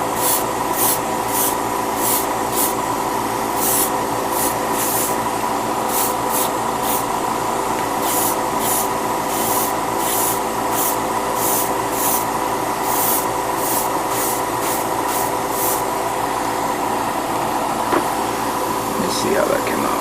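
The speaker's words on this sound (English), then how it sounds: "take the overall base paint color and spray right over it, you know, like lightly, like how I'm doing right now" Spray paint lightly misted over the base coat of a 1/144 HG Gundam model comes as a regular series of short, close hissing bursts over a constant background hum.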